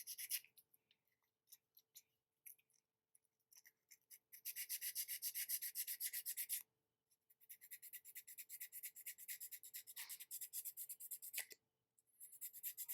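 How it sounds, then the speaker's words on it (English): Sandpaper rubbing a rough spot on a primed quarter-scale figure, faint close scratchy strokes in quick rhythmic bursts, with a few short pauses between runs of sanding. "So I'm just get in there with the sandpaper and"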